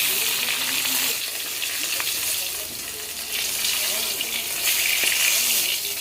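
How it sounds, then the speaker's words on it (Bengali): Fresh fish, a potol-stuffed fish preparation, sizzling steadily in hot oil in a kadai, a continuous bright hiss with small crackles and a few clinks, fairly close and without talk. "মাছ ভাজতে বেশি সময় লাগে না, টাটকা মাছ দিলে তাড়াতাড়ি ভাজা হয়ে যাবে।"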